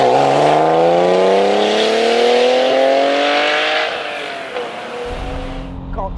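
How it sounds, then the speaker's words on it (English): A Honda NSX V6 revs while driving, a smooth mechanical engine note climbing steadily in pitch for several seconds before easing off, loud and close with no talk over it. "Got to be one of the best 6-cylinder engines of all time."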